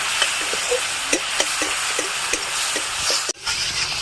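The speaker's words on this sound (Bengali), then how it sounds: "তারপরে দিয়ে দেবো একটা টমেটো মশলাটা ভালো করে কষিয়ে নেব" Spices and a tomato sautéing in a pan for a soybean malai curry, a steady close sizzle with regular clicks and scrapes of a stirring spoon and one sharp knock near the end; no talking.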